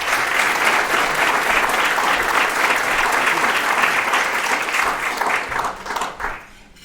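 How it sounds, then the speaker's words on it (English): A room full of audience members applauds steadily to welcome a speaker at a CAIC Federal Reserve event, loud and sustained before tapering off near the end. "Put your hands together. Join me in welcoming David."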